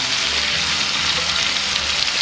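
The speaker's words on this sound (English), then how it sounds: "Give this a 1 minute sear on each side." A steak sears over direct heat on a Traeger grill, giving a steady, dense sizzling hiss that holds evenly throughout, close and fairly loud with no talking.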